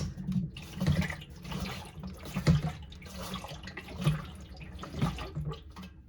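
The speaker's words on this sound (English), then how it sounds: "Hear all that water sloshing around in there?" Water sloshes and swishes in uneven surges inside the drum of a leaking Samsung FlexWash washing machine, with faint low mechanical thumps beneath, fairly quiet and close.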